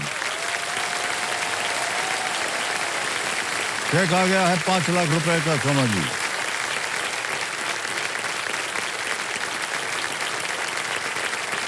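A studio audience on the KBC Season 17 game show applauds in a loud, continuous wash of clapping that runs throughout, with someone speaking over it and a short musical sting partway through.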